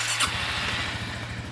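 A Honda Big Ruckus scooter's engine cranks and catches, a brief starter squeal at the outset giving way to a steady, close, throbbing idle.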